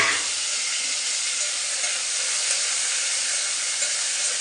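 Tomatoes hit a hot pan for wheat rava upma, setting off a loud, steady sizzle and hiss that fills the whole stretch without pause.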